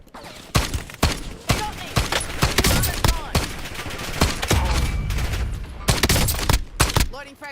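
Rapid gunfire from a weapon in Black Ops 6 crackles in loud, close bursts and single shots, with overlapping shooting and faint talk underneath throughout.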